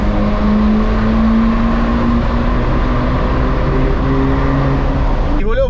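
A Ferrari engine driven in manual mode with the windows open makes a loud, steady droning roar mixed with heavy wind rush throughout, rising slightly in pitch near the end.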